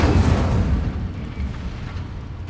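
Incendio fire spell cast in Hogwarts Legacy, a loud whooshing roar of flame bursting close up and sustaining for a couple of seconds before easing slightly.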